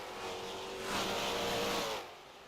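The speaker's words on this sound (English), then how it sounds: "Twin is going to make the move on the other Valvoline sponsored car." A race car in an online sim racing game, an AASC Foxbody at a Copper World Classic feature, roars past with a swelling, rising engine note that peaks and then fades away.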